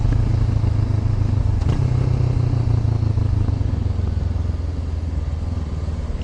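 A 2014 Honda CB500F motorcycle hums steadily while being ridden, its low engine drone constant and close with wind rumble, easing slightly toward the end.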